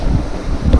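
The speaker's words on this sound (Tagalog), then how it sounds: "Lakas na hangin." Strong wind gusting and buffeting a microphone at an outdoor fishing spot, a loud steady roar with no voices.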